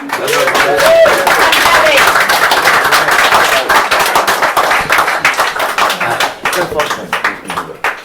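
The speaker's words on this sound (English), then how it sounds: "One more round of applause for Tommy." Audience applause at an open-mic night in a Limerick bar, dense clapping for several seconds that thins into scattered claps toward the end, with a voice speaking briefly near the start.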